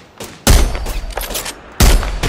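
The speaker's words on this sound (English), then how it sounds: "They're shooting at me." Gunfire in the battle royale shooter Apex Legends comes as loud, sharp bursts of rapid shots, with two heavy volleys separated by quieter scattered pops, and no speech.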